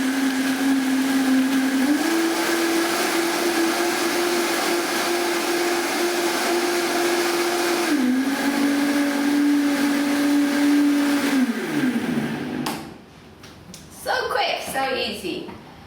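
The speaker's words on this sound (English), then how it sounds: "let's put the blender on" A blender whirs loudly and steadily for about twelve seconds, blending almonds into milk, its pitch stepping up and down, then winds down to clinks and brief talk.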